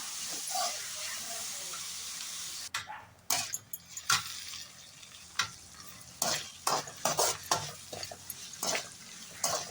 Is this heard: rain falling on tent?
no